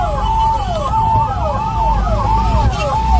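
An ambulance carrying a patient wails through heavy traffic, its siren sweeping up and down in a steady repeating cycle over road noise and engine rumble.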